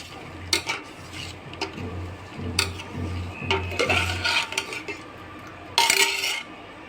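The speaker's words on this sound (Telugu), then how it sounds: "ఫస్ట్ ఇది బాగా మిక్స్ అవ్వాలా." Stirring a mixture in a pot while cooking, with scraping and clinking of a spoon against the metal pan at an irregular rhythm, alongside a low background hum.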